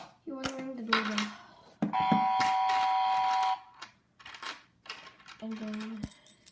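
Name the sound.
Melissa & Doug wooden toy doorbell house doorbell ringing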